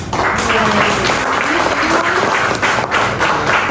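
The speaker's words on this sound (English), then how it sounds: "let's give everyone a round of applause" Loud, continuous applause from members at an Asian Real Estate Association of America board meeting, a thick wall of clapping with faint voices and a few tonal murmurs beneath it.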